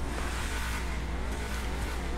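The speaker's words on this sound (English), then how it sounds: "This thing's got a pretty decent sounding V8." A Vapid Dominator GTT in GTA 5, modeled on a 1969-1970 Ford Mustang, holds a loud V8 rev with a deep, steady, throaty drone throughout, uninterrupted by talk.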